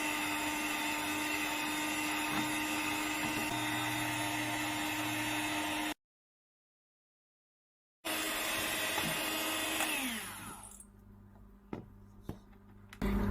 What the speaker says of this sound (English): I'm going to use my hand mixer again to mix thoroughly until the sugar